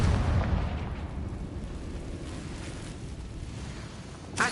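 A Confringo fire spell goes off in a Harry Potter video game on PS4, a loud booming blast with a rumbling, low-heavy tail that gradually fades, then a sharp burst at the end.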